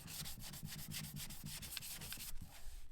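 Hand sanding a Rolls Royce bumper with 180 grit abrasive, rapid rhythmic back-and-forth rasping strokes close up, steady and fairly even, with a slight change in tone near the end.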